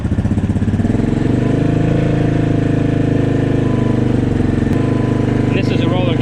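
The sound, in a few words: modified Yamaha Grizzly 700 ATV engine running, revving up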